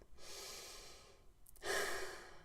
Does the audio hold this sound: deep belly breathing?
yes